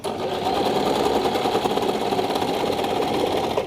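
A sewing machine stitches fabric in a steady, loud mechanical whir with a rapid needle rhythm, running continuously and alone throughout.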